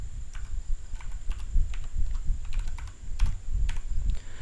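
Quick, irregular keystrokes on a computer keyboard while entering a search term in a Google Sheets menu, light clicks close by over a faint steady hum.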